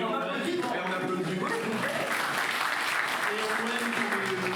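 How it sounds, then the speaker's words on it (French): Audience applause at a festive French school event, a dense steady wash of clapping hands filling the room throughout, with a voice or two faintly audible underneath. "Et puis on applaudit"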